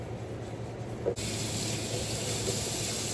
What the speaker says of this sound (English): I'm just leaving the water to run out of it.